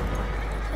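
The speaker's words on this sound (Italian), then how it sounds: "Ho sentito il cavallo, ma ho visto il cavallo alleato" Horse hooves clip-clopping with a whinny in a Battlefield 1 match, a brief, fairly quiet burst within a busy game soundscape.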